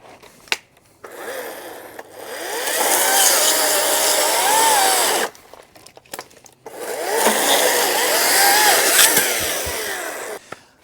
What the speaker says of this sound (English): today I'm using the Ryobi 40-volt 12-inch top handle chainsaw to cut through some of these logs